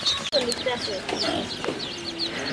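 Local chickens and chicks in a farm setting, with scattered high chick peeps and cheeps and a few low clucks, close and fairly busy, with a person talking.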